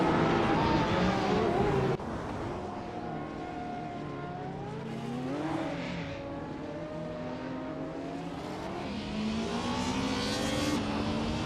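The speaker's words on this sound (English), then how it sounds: "Hope you're ready for some exciting AI car races today." Several AI-driven race cars in a video game roar steadily, engines revving with rising and falling pitch sweeps as cars pass, loud and continuous with no talk.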